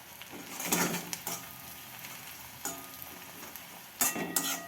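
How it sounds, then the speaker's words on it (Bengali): Onion and chopped garlic fry in a pan for a Bengali steamed goat-meat dish, giving a steady close sizzle with a few louder bursts as the pan is stirred. "পেঁয়াজটা আমি একটু লাল লাল করে ভেজে নেব। এরপর আমি রসুন কুচিটা দিয়ে দেবো।"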